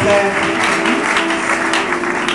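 A church congregation at an evening worship gathering breaks into sustained applause, a dense, loud crackle of many hands clapping that continues steadily throughout.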